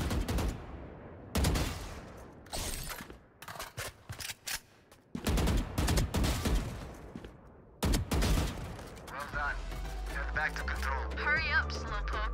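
Gunfire rattles in rapid bursts at strafing training bots in the video game Valorant, loud close volleys separated by short gaps, with voices talking near the end.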